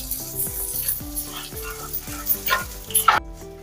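Mixed dry fruits roasting in a pan for chikki, with close, steady sizzling and stirring clatter heard over a background of sustained musical tones, without any voices.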